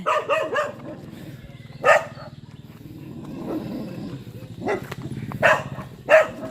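Dogs barking at a stray wild boar that wandered into a home yard, several loud separate barks spread over a few seconds against a busy outdoor background.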